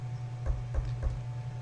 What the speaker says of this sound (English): Someone knocked?